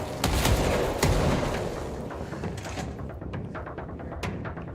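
Gunfire and heavy blasts in the video game Control, with a couple of sharp booming bursts early that then give way to scattered, rattling shots fading lower and farther.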